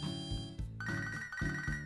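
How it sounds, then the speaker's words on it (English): Synthesized chiptune-style ringtone from Pokemon Soul Silver, a phone call alert looping in repeated bursts with steady tonal beeps, loud and clear with no talk. "Phone call."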